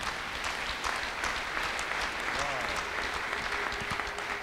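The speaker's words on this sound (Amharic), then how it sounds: "ሌሎችም ክብርና ልልታ ጭብጨባ አምጡ።" Church congregation applauding and cheering in a worship service, dense steady clapping filling the room throughout with brief raised voices and ululation-like calls mixed in.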